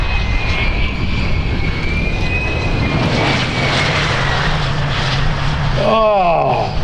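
A P-51 propeller aircraft lands at an air show, its engine droning loud and steady overhead with a slowly shifting whine, and a person briefly exclaims near the end.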